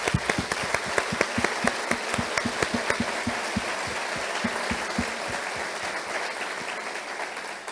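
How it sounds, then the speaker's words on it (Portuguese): A church congregation at a worship conference claps hands together in a brisk, even rhythm, many sharp overlapping claps from a large crowd that thin out slightly toward the end. "Outra arma que nós temos é usar nossas mãos para bater palmas."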